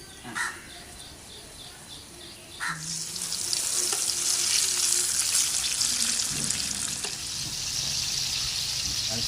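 Jackfruit sweet bajji frying in hot oil and being turned over, a steady bright sizzle that swells after a few soft knocks and carries on continuously, with light stirring clinks underneath.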